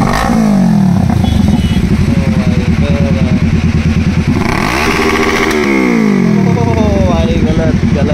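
A KTM racing motorcycle at a race championship revs hard, its exhaust climbing and falling in loud, sustained sweeps near the microphone while someone talks over the engine.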